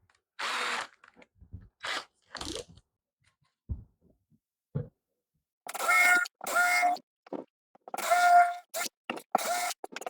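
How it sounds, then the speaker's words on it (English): A handheld power drill bores pilot holes and countersinks into a wooden worktop, running in several short bursts of varying length separated by pauses, with quiet clicks and handling noises in between, close and clear, with no talking. "I'm going to drill our pilot holes."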